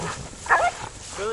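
During a wild boar hunt in the Sabine River bottoms, a hunting dog gives a short yelp or bark at mid-distance amid rustling, with people talking nearby.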